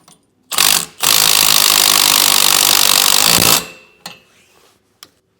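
A power tool drives the bolts on a Roadmaster Comfort Ride leaf spring suspension kit fitted to a 2020 Grand Design trailer; a short burst, then a loud steady whir for about three seconds, followed by a few faint clicks.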